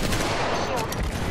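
Rapid gunfire in the Apex Legends battle royale game, a dense burst of shots crackling continuously for about a second, loud and close.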